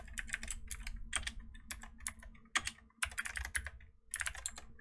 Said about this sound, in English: So type in your email address,